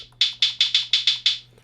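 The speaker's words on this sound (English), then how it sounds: "but now the hats are dropped down in a lower octave" Hi-hat hits dropped to a lower octave play a quick pattern of seven or eight crisp, evenly spaced ticks with short decays, heard alone and up close.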